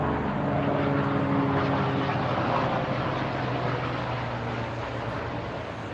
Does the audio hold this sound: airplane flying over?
yes